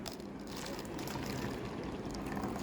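Hot water poured into a beaker for a primary science activity, a soft steady trickle that stays faint and continuous without a break.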